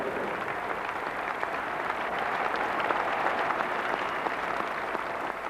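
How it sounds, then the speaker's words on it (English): A standing ovation from the crowd at Lord's for Warwickshire's David Smith after his 124 in the 1993 NatWest final against Sussex: dense, sustained applause, steady and full throughout, with no speech. "a standing ovation for him from the crowd here at Lord's"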